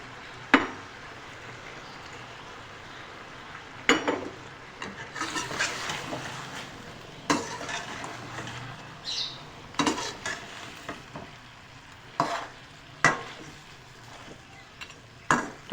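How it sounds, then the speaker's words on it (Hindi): Chicken karahi frying in a pan after finely chopped tomatoes go in, with a steady low sizzle and repeated sharp scrapes and clinks of a spoon stirring against the metal, no voices. "सबसे पहले मैं इसमें डालूँगी बारीक बारीक कटे हुए टमाटर"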